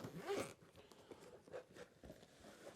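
A zipper is pulled open on a Falcon 4G router carry case, a brief close rasp followed by quieter handling rustles.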